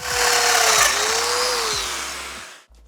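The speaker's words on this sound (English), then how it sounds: "The idea behind the domino is as it comes in, it's gonna rabbit out an oval hole" A domino joiner plunges into wood to cut an oval mortise for a stair tread, a loud, close whining motor over a rhythmic thumping pulse for about two and a half seconds, then stopping abruptly.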